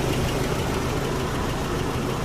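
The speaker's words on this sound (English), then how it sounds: "Very quiet for a petrol engine." A Nissan Patrol petrol engine idles smoothly and steadily after sitting, a low even hum with a soft mechanical rumble throughout.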